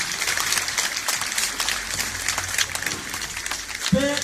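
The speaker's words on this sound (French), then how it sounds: "Sous vos applaudissements, nous allons accueillir Madame Émilie" Audience applause welcoming a speaker at a March 8 gathering: sustained, dense clapping from a crowd that holds steady for the whole stretch, with a brief voice-like sound near the end.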